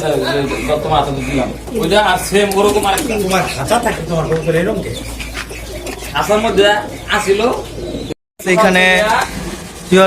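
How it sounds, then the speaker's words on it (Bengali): Pigeons cooing in a pigeon loft, soft, repeated throaty calls overlapping with people talking nearby. "অনেক কবুতর আছে ভিউয়ার্স"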